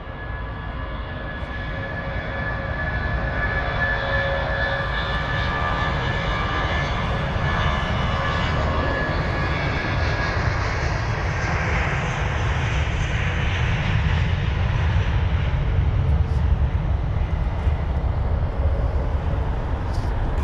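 British Airways A321neo airliner at Heathrow, a steady broad engine roar and whine that swells slowly and holds throughout, fairly distant and with no talk over it.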